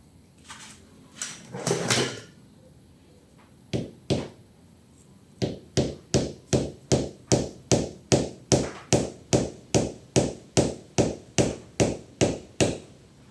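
A wooden bung is hammered into the end of a sand-filled steel motorcycle frame pipe. A few scattered knocks give way to a steady run of about sixteen sharp, evenly spaced strikes, loud and close.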